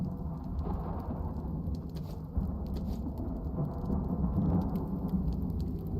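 Steady heavy rain with rumbling thunder during a thunderstorm in the survival game Icarus, a continuous dense wash that swells slightly partway through, with no voices.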